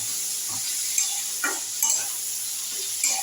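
Garlic frying in a pan gives a soft, steady sizzle with occasional stirring scrapes and light clinks of a utensil against the pan.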